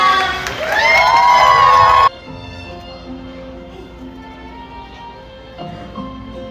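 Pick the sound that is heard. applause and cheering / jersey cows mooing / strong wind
applause and cheering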